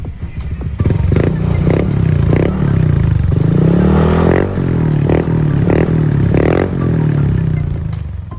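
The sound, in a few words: motorcycle revving with JVT Reviver exhaust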